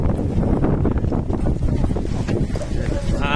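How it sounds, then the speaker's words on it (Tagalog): Strong wind buffets the microphone outdoors, a loud, rough, continuous rumble with a person talking under it. "Hangin."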